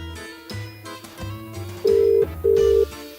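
An unanswered phone call plays a ringback tone, two long steady electronic beeps separated by a short gap, loud and close over a faint musical background.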